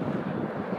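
Airplane engine roar from a jet passing at the BWI airport aircraft observation area, a steady loud low rumble with wind noise, heard alone.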